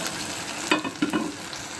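Cashews are stirred into semiya upma in a pan, giving a soft continuous sizzle with a few brief scraping clicks from the stirring, close and fairly quiet.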